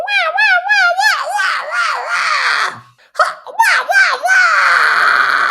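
A voice imitates a baby crying while being choked, delivered as a series of loud, close, warbling gurgly screams with a brief pause midway, performed as a metal scream technique.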